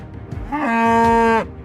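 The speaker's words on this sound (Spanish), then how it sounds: "Los vikingos tenían vacas," A cow gives one long, loud, drawn-out moo that swells and then fades, heard close and clear with nothing else over it.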